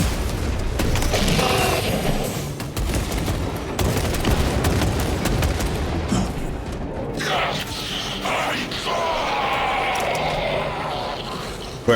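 Rapid bursts of gunfire and heavy booms from the video game Warhammer 40000: Space Marine 2, dense and loud with clustered shots and impacts, easing into scattered blasts and mechanical clanks later on.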